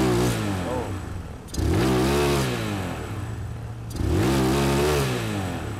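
Motorcycle engine starved of air, revved twice in sharp surges that rise and stutter before falling back to a rough idle, loud and close, with someone speaking between revs.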